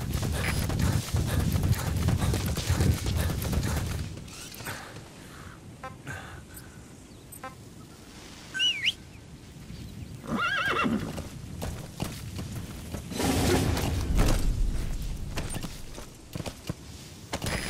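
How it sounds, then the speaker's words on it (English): A horse in Metal Gear Solid V: The Phantom Pain neighs and whinnies over the steady clip-clop of galloping hooves, loud and close, with bursts of game sound effects mixed in. "Use your horse."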